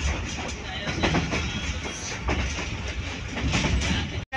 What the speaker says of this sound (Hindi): ट्रेन शुरू हो चुकी है